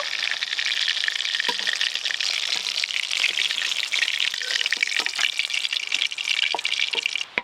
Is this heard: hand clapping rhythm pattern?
no